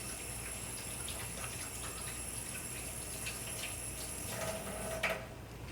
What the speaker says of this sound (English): In the meantime, wash my hands very quickly.